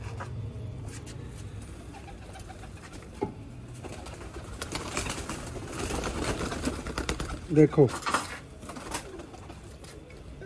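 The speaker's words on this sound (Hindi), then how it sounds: "प्योर सियालकोटी बटेरे कबूतर।" Sialkoti pigeons kept as quail-type fancy birds, softly cooing at moderate distance, with someone talking over them and a brief louder coo near the end.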